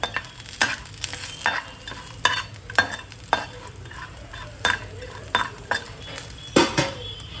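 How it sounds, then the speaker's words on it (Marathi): Grated coconut being dry-roasted in a pan until lightly browned, with a spoon or spatula repeatedly scraping and knocking against the pan over a faint, steady background hiss; no one speaks. "खोबरं आपण गुलाबी करून घेऊया."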